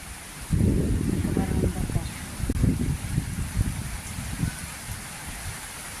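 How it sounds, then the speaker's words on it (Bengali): Steady rain pattering nearby on a hard surface, dense and continuous, with some low rustling and thuds. "বৃষ্টি হচ্ছে তো আমি ভিজে যাচ্ছি"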